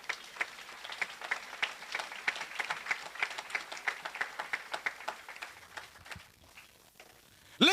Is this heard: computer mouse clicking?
no